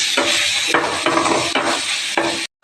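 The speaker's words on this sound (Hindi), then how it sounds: "भुजिया भी मसाले फ्राई हो रहे हैं" Spices sizzle loudly in a hot pan for bhujia, with rhythmic stirring scrapes recurring about every half second before the sound cuts off abruptly.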